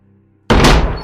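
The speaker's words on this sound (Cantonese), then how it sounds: "一聲脆響，道門被宋善撞開咗。" A door is smashed open with one sudden loud crash that cuts through near-silence and rings out briefly, close by.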